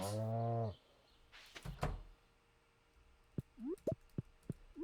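A cow in the Stardew Valley farming game lets out one long, loud moo, followed by soft in-game thumps and short rising squeaky effects.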